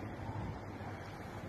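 Sea waves off Palm Beach in Alexandria, heard from an apartment balcony: a steady, close rushing wash of surf mixed with wind buffeting the microphone, with no voices.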